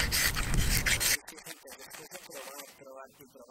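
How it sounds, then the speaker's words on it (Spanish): A knife shaves thin wood curls off a stick to make a feather stick outdoors in the woods, a short scraping rasp that stops abruptly after about a second, followed by quiet talk. "un palo emplumado, que es coger un palo, un trocito de madera y emplumar la madera"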